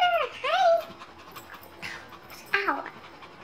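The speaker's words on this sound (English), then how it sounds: "My dog just came downstairs." A dog frightened by a storm outside pants close by indoors, with high whimpering whines rising over a steady background hiss.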